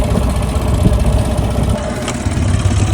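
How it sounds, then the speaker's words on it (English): An idling boat engine, its propeller fouled with weed, rumbles loudly and close by. The low, steady chug runs without a break through the whole stretch. "we're gonna start the engine"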